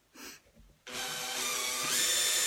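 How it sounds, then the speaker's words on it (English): A drill bit bores slowly into the plastic coating of an HP R280 printer ink cartridge. After a brief quiet start it bursts into a loud, steady, high whine that holds and rises slightly to the end. "just very gently drill a little hole in that space"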